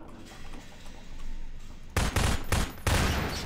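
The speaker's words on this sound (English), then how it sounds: "It's all the explosions." Explosions and gunfire in Half-Life 2 come in as a sudden loud burst of rapid shots and blasts after a quieter stretch of game ambience, with two dense clusters close together.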